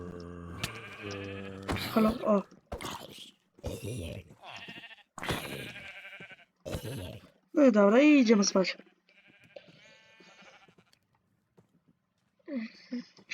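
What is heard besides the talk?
sheep bleating in Minecraft video game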